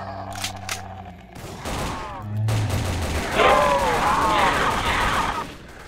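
A powerful weapon fires in the Project Lazarus zombies video game, with rapid bursts of gunfire and booming game effects layered over a busy, loud soundscape and some voices.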